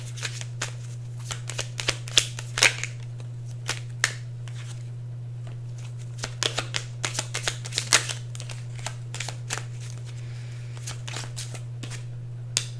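A deck of cards being shuffled produces crisp, irregular riffling clicks and flicks in quick bursts, close and fairly soft, over a steady low hum with no talking.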